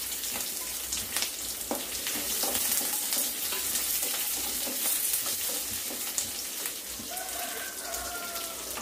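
Small onions sautéing in oil with garlic and green chillies for tomato rice, a continuous crackling sizzle like light rain with occasional stirring clinks, close and steady, no speech.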